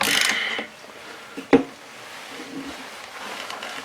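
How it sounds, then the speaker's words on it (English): A wrench works on crusted screws of a worn Stihl TS400 cut-off saw caked in concrete dust: a soft scrape, then one sharp metallic click near the middle, followed by faint handling noise. "let's see if I can get on there with the wrench enough"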